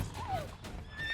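A short, high horse whinny in the video game The Witcher 3 rises and falls over a low background rumble.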